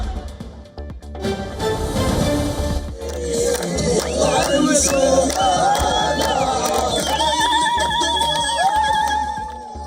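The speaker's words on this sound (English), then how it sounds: "Palestinians filled the streets near Nasser Hospital in Khan Yunis, cheering and dancing" A large crowd of Palestinians cheering, chanting and shouting in the streets near Nasser Hospital in Khan Yunis, Gaza, a loud, dense roar of many voices sustained throughout with whistles and cries rising over it.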